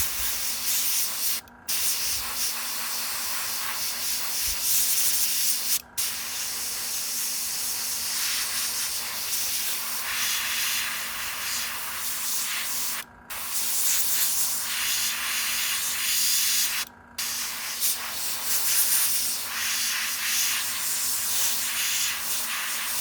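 An airbrush at low pressure sprays thin paint onto a custom fishing lure, giving a close, steady hiss broken by a few brief pauses where the trigger is released.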